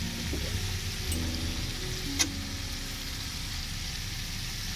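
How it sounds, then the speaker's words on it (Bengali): Meat frying in oil during kosha-style slow cooking, with potatoes added to the pan; a steady, close sizzle runs throughout, broken by a single sharp click partway through. "মাংসটা কষানো প্রায় হয়েই গেছে দেখতেই পাচ্ছ এখন তেল ছাড়ছে"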